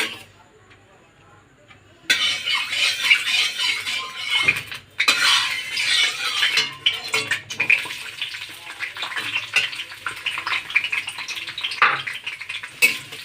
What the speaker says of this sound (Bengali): পেঁয়াজটা এবার একটু লাল লাল করে ভেজে নেবো আগে